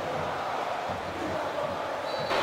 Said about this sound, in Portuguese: Alguns aplausos, algumas vaias, se dividiu no torcedor.